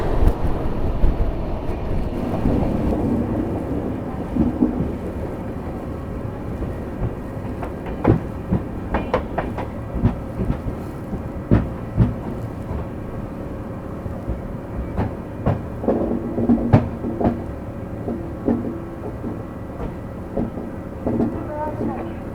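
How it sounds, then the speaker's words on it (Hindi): The New Delhi–Bhubaneswar Tejas Rajdhani train passing by, heard from aboard another train at night: a long rumbling wash with repeated clicking wheel thumps over rail joints and some wind noise. "अब आ रही है नई दिल्ली भुवनेश्वर तेजस राजधानी।"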